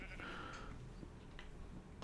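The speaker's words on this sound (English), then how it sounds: "Move out of the way, sheep." A sheep bleats once, short and faint, in a Minecraft-style modded game world, under a low steady background hum.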